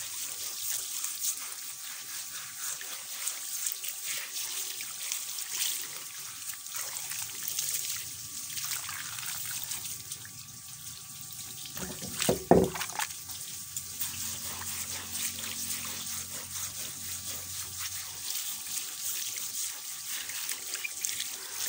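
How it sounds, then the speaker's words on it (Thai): Water trickles steadily over a wooden cutting board being rinsed after scrubbing, a soft continuous dribble with a brief louder splash midway, no talking. "จากนั้นค่ะเราก็จะนำน้ำมาล้างทำความสะอาดแบบนี้อีกรอบหนึ่งนะคะ"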